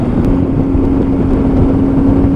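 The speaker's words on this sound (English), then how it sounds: "And it sounds incredible with that exhaust on it." A Triumph Tiger 800 XRx Low motorcycle with an aftermarket exhaust rumbles steadily at low revs, a loud, throaty, deep droning exhaust note close by with no talking.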